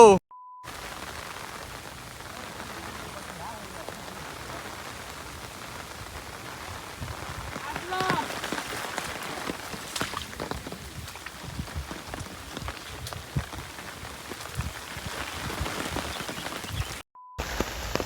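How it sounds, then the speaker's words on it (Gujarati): Steady heavy rain pours down in a continuous dense hiss, growing somewhat louder midway, with no voices. "જોરદાર વરસાદ પડી રહ્યો છે અત્યારે હાલ અને લગાતાર વરસાદ ચાલુ છે"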